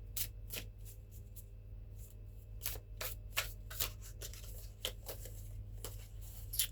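Tarot cards being shuffled by hand, a steady series of crisp riffling snaps and slides close by over a low background hum, with no talking.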